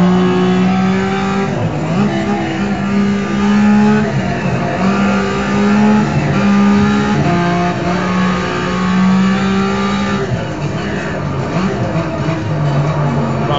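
A BMW Z3 engine in the GTR2 racing game lapping the Nordschleife, loud and continuous, with rising revs, gear changes and sustained high-pitched engine drone, close and unbroken throughout.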